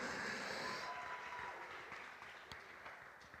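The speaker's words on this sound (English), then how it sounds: "Another round of applause" Applause from an audience at the Kenya Theatre Awards 2023, a dense wash of clapping that starts strong and gradually fades, with a few scattered claps trailing at the end.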